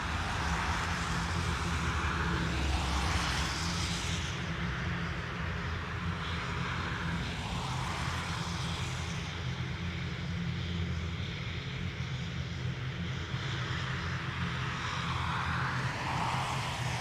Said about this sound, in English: ATR is off to Manchester